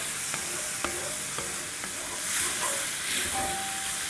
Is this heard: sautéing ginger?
yes